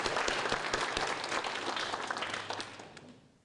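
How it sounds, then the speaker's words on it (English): Audience at a university institute event on U.S.-China issues gives a round of applause, a dense wash of clapping that holds steady and then fades away toward the end. "Please join me and give them a round of applause."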